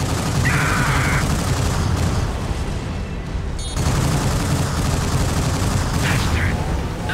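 Enemy fire in the mech combat game Gundam Crossfire booms and crackles as loud, dense battlefield gunfire and blasts, with a brief lull in the middle before the barrage resumes.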